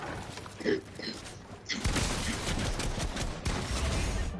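Assault rifle fire in the video game Fortnite: a quiet stretch with faint clicks gives way to a dense, loud burst of rapid shots that continues to the end.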